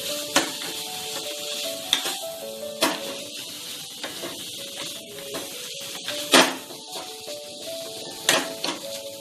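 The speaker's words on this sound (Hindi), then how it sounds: "देखिए इसको भी हम लोग मैश कर हैं" Boiled potatoes being mashed by hand for crispy cutlets: soft squelching with scattered sharp taps and scrapes of the masher against the bowl, fairly quiet and irregular.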